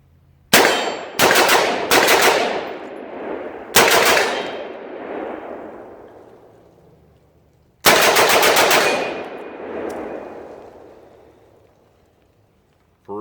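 An AR rifle fitted with a Tac Con trigger fires outdoors: a quick run of sharp, loud shots, a pause, another single report, then a rapid burst. Each shot leaves a long ringing echo that fades out.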